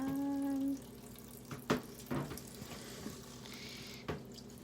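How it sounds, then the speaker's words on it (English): A water tap running to rinse plant-dyed fabric, a steady faucet rush with a few sharp knocks and handling clunks over it, close and moderately loud. "So I'm going to turn the water on."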